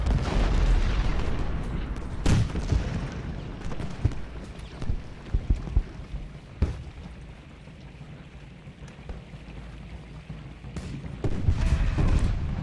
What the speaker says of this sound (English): Cannons are doing a number on these skirmishers.